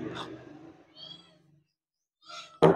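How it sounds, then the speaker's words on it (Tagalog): Cats meowing at a home in the Philippines, a few short soft calls spaced apart with quiet gaps between them, then a sharp louder meow at the very end. "Kasi nag-aantay na sa atin yung mga pusa."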